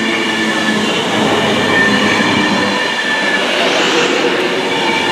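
A train pulls into Birmingham International station with a loud, steady rumble, wheels and carriages rolling past close by, and a faint squeal rising near the end.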